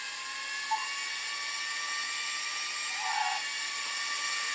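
High-pitched whine of a slot car engine in the Scalextric Xbox One video game, a steady thin electric drone holding throughout with a couple of brief faint blips, with no talking.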